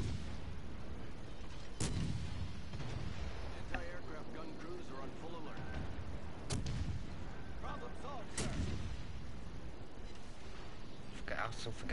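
Warship guns firing in the naval video game World of Warships, three heavy booming shots spaced seconds apart over a constant rumbling ocean-and-engine bed, with people talking in between.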